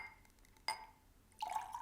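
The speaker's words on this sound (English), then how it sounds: "Oh, I'm covered in ice water." Spilled ice water drips in a few distinct, quiet drops, one sharp splash followed after a pause by a brighter trickle, faint and close with no talking.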